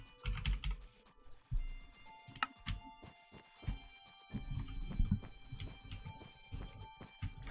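Computer keyboard bumped and shifted on a desk right beside a microphone, producing close thumps, knocks and clatter in uneven bursts, with some short quiet gaps between.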